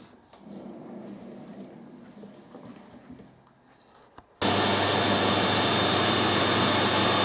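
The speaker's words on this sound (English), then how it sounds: "We'll put the threads on first, and then turn it around, machine the bob bit, and then put a hole through it." A metal lathe cuts threads on a 1/4 BSP airline adapter, opening with quieter scraping and rubbing, then a sudden loud, steady machining roar with a high whine that holds to the end.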